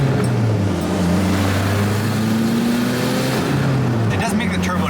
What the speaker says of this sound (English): listen to this exhaust. It's so loud.